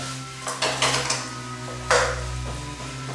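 Thin-sliced pork belly frying in a pan, a continuous sizzle under repeated clanks and scrapes of a utensil against the pan, close and fairly loud, with no talking.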